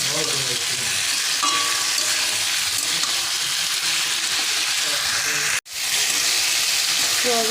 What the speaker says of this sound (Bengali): সয়াবিন ভালো করে কষিয়ে নিয়ে এবার ঝেল দিয়ে দেবো